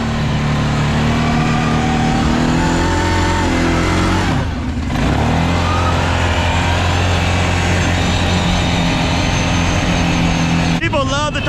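A Kawasaki 650 four-wheeler mud build with a manual transmission kit, engine running loud and close with steady revving, a brief dip in the middle and a sharp rev near the end.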